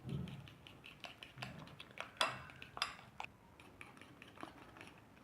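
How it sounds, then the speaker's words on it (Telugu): Fork beating eggs in a bowl for a bread omelette, faint quick metallic clinks and taps in an irregular rhythm, a couple of sharper knocks, no talk. "ఎగ్స్ ప్రాపర్గా బీట్ చేసుకున్నాం కదండి"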